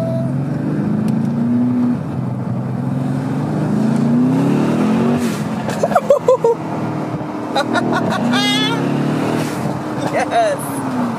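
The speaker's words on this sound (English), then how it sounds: "So we revved it up in the driveway" A 2019 Mercedes-AMG C63S fitted with VRP blow off valves revving in a driveway, a low engine drone rising and falling with sharp bursts mid-clip, with excited voices talking over it.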